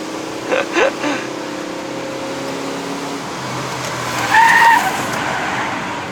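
A 2015 Proton Preve 1.6 CVT car climbs the Genting mountain road in Malaysia with a steady engine drone, some brief louder bumps early on and a short tire squeal near the end.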